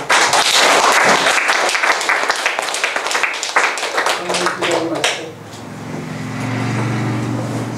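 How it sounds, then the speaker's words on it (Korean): A church congregation claps to encourage its pastor, a loud, dense burst of many hands that runs about five seconds, then thins and fades out under a low hum. "열심히 하는 우리 조 목사님 더 열심히 하라고 격려 박수 한번 주시고"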